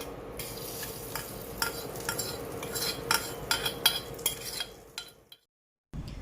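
A roasted tempering is stirred into sambar rice with a spoon, giving repeated close scraping and clinking strokes over a soft sizzle, ending with a brief silence.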